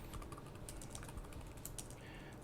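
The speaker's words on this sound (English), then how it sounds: "You definitely learned that I'm bad at typing." Quiet, close tapping on a computer keyboard, irregular bursts of clicks with short pauses between them.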